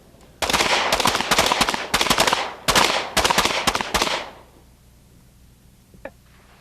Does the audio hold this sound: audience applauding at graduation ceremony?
no